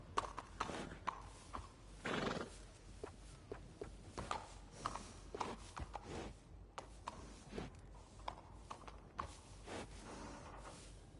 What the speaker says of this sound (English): I got some good bred horses. Sure there's one to your liking.